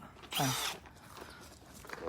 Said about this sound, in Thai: อันนี้เป็นสว่านแล้วก็กระแทก